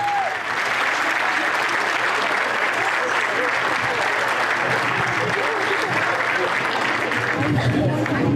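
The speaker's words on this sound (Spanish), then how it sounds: "Un aplauso a los niños y al Señor de las Misericordias." Sustained applause from a crowd honoring children at an outdoor religious festival procession, loud, steady clapping that fills the whole stretch with some crowd noise mixed in.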